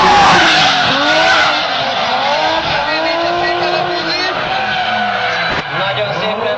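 A drift car slides sideways on a dusty track at a Máriapócs drift event, tires squealing long and loud over a roaring engine that rises and falls throughout, close by.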